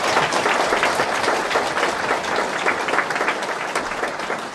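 A church congregation at a Korean Sunday service breaks into sustained, dense applause, many hands clapping together at steady volume before slowly easing off.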